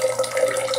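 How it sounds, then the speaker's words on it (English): Water pours steadily into a vase holding roses, a continuous splashing trickle that stays close and even throughout, with no voices. "Now, I'm going to go ahead and put the water in."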